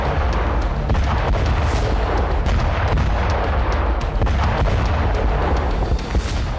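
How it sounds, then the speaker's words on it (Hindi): A loud, continuous explosive rumble of a missile explosion, with repeated sharp booming bursts, like heavy blasts going off. "रूस ने मिसाइल विस्फोट किया"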